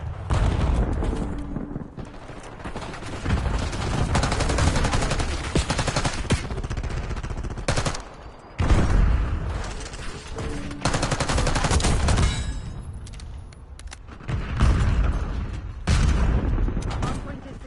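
Rapid gunfire in Call of Duty Black Ops 6 ranked Hardpoint on PS5, loud sustained bursts with brief pauses between volleys, mixed with game mechanism clatter.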